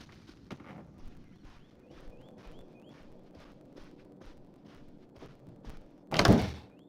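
In a video game, a car door is worked open with a screwdriver, producing a series of soft metallic clicks and taps that ends in a loud, heavy thunk.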